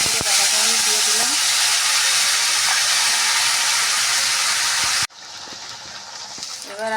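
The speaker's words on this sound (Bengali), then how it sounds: "জিরে আর এই আদা বাটাটা দিয়ে দেব। দিয়ে একটু ভালো করে একটু নেড়ে চেড়ে নেব।" Ginger and cumin paste hits hot oil in a pan while making vegetarian ghugni, giving a loud, dense, steady sizzle that cuts off abruptly after about five seconds, leaving quieter kitchen noise.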